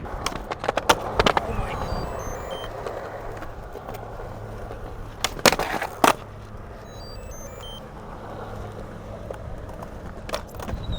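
Skateboard wheels roll with a low grinding rumble, broken by a few sharp clacks and pops of the board, close and outdoors.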